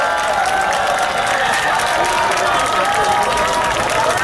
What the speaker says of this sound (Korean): 큰 박수로 모셔보도록 하겠습니다